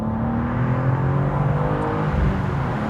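A BMW M2's 3-litre twin-turbo S58 straight-six drones steadily under load, a continuous close engine hum and whir with slight swells in pitch, no voices present.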